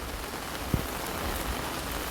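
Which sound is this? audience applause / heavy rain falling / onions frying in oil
heavy rain falling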